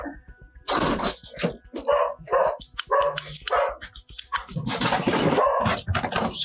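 A dog barks and yips repeatedly at close range indoors, the loud bursts mixed in with people talking over it.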